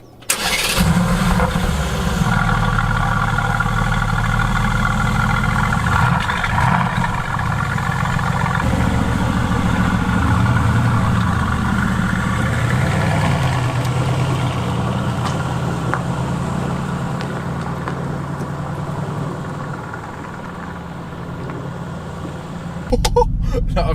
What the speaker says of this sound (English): Let's jump in, start this car up, and I suppose go for a first drive.